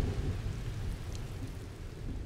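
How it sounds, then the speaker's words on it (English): Heavy rain with rumbling thunder in the Asir Mountains, a steady dense downpour over a deep continuous low roll of thunder, loud and unbroken throughout. "When seasonal rains finally arrive,"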